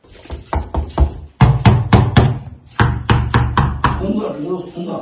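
A rapid series of hard knocks on a hollow-block house wall, coming in quick bursts of several raps each, loud and close with a resonant, empty ring.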